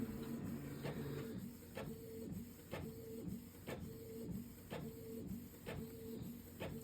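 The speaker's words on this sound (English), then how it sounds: "See, my printer's not the fastest printer in the world either," Printer running steadily, a looping mechanical hum punctuated by rhythmic clicks about once a second as the paper advances, nearby and fairly soft.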